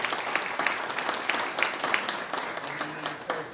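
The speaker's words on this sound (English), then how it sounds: "give a round of applause to our sponsors" Audience applause for event sponsors at a nurses' health care gathering, a steady wash of many hands clapping from a medium-sized crowd with scattered sharper claps, sustained throughout.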